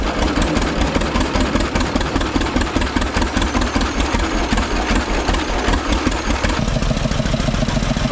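A BW tractor engine runs steadily while belted up, with a loud, rhythmic low chugging throughout and a slight shift in tone near the end.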